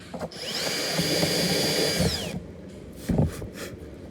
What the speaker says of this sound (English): We're going to drill this hole out a little bit more.